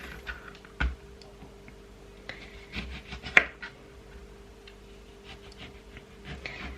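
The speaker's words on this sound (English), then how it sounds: "So I'm just going to take all the peel off." A dull kitchen knife peels produce at home, giving a few scattered scraping and tapping strokes with sharper clicks, close by and fairly quiet, with no one speaking.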